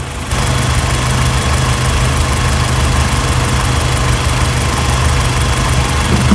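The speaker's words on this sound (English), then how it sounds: "I'm gonna rev it up a little bit. So we get all the air out of there." A car engine runs close and loud at raised, steady speed, pushing air out while coolant is bled after the thermostat has opened, a continuous humming drone with no voices.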